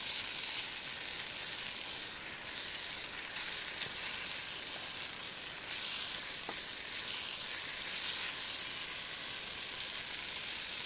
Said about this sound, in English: You can see them frying without the liquid.